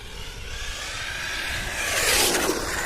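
A brushless RC dirt drift car with a Leopard 1600kv motor, 14-tooth pinion and cheap Chinese wheels accelerates under throttle, a close, rising whine and rush that builds louder toward the end.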